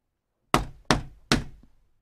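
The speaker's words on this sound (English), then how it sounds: "Finally, he knocked on the shop door." Three firm knocks on a shop door land in an even rhythm, each a sharp, close thud with a short ring-out, and no one speaks.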